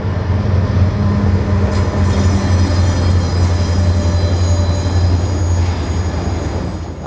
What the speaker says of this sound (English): Norfolk Southern even made an appearance as we caught a local train navigating the famous Old Fort Loops